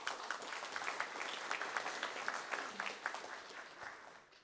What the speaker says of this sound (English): a round of applause for Justin